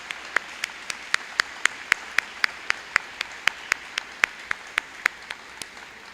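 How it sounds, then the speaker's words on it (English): A promotion ceremony audience claps in a steady rhythmic round, the individual claps sharp and regularly spaced, moderately loud with a quiet room behind. "please give them a round of applause as well for all their hard work"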